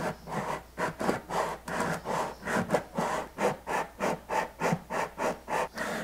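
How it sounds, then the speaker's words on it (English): An archtop guitar bridge is worked back and forth on sandpaper in a jig, removing bandsaw marks, giving a steady run of about sixteen rhythmic, close and fairly loud scraping strokes with no talk. "Watch how fast I can remove these bandsaw marks."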